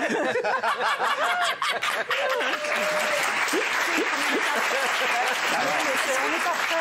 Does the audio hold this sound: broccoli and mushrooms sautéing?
no